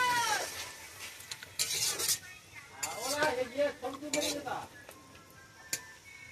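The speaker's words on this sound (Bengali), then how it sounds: "একটু নাড়িয়ে নিলাম" Fish curry with dried mango and puthi fish being stirred in a pot after a half spoon of sugar goes in, with intermittent scraping and clinking of a spoon against the metal pot, close by, with a voice speaking at moments.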